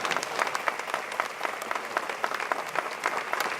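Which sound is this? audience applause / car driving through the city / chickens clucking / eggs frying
audience applause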